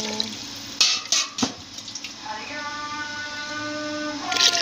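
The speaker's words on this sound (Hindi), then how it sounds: "अब हम इसमें पानी डालते हैं।" Water poured in several splashing bursts from glasses into fried chicken in a cooking pot, followed by a lingering low sizzle and bubbling with faint background tones.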